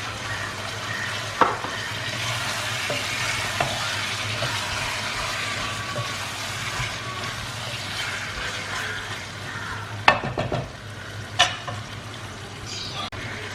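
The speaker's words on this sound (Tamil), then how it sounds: "சிக்கன் ஆட் பண்ணதுக்கப்புறம் சிக்கனை வந்து அந்த மசாலாவில் நல்லா பரட்டி விடுங்க" Chicken is stirred into masala in a pan for bamboo biryani, with a steady soft sizzle and scraping and a few sharp clinks of the spoon against the pan.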